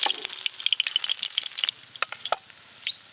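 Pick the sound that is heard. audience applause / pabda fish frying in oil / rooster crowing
pabda fish frying in oil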